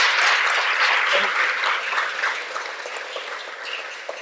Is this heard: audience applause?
yes